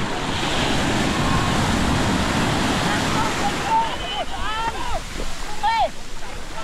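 Surf breaking along the shore during a fishing trip for swordfish, with a steady loud wash of waves and wind, and people talking over the water noise in the latter half.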